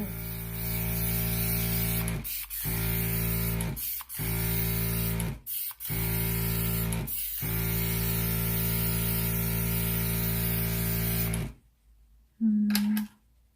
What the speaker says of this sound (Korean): 저는 이 상태에서 이렇게 뷰티 에어 스프레이를 뿌리거든요